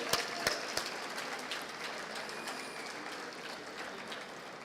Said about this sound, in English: Can we just have a round of applause for all 3 of them, please?